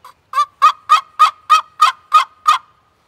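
A homemade turkey call produces a raspy run of about nine evenly spaced, sharp yelps, loud and close, after a short opening note, with no other sound.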